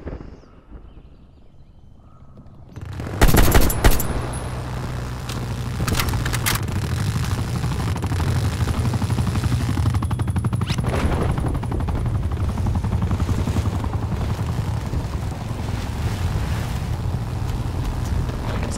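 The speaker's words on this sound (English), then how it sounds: "Hostile chopper gunner operating." Hostile chopper gunner helicopter firing in Call of Duty Black Ops Cold War, a sudden burst of heavy gunfire followed by a continuous loud rotor and engine drone with scattered impacts.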